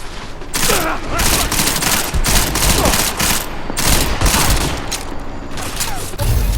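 Dense gunfire in the first-person shooter Deus Ex: Mankind Divided, loud rapid bursts of automatic shots and impacts crackling almost continuously, with faint shouted voices underneath.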